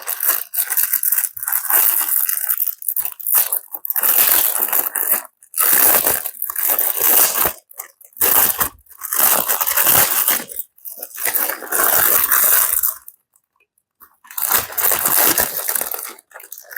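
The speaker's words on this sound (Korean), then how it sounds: "한번 봉지 뜯어볼게요" A plastic bag of fresh vegetables, including okra and rocket, is torn open close up. Loud crinkling and crumpling bursts come in several bouts separated by short silences, with no talking.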